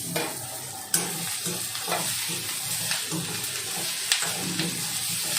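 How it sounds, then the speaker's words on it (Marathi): Onion with ginger, green chili and garlic sizzles steadily in a pan for a Malvani-style masala paste, with frequent scraping stirs and a few sharper knocks of the spoon, close and without talk. "ते व्यवस्थित परतून घ्यायचं आपल्याला"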